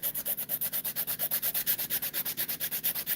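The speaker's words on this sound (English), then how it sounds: "Now I'm going to go in and I'm going to start filing." Acrylic nails being filed: a steady, rapid back-and-forth rasping of about six strokes per second, close and evenly loud throughout, with no voices.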